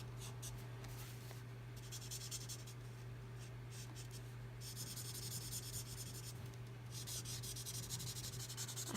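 Pencil colouring in gold on a calendar page, soft quick scratchy strokes in irregular bursts over a low steady hum, close and quiet, with no voices.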